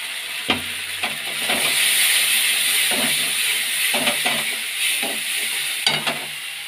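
Masala spices fry in a pan with a steady close sizzling hiss, broken by repeated scraping strokes of stirring at an uneven rhythm, with no talking.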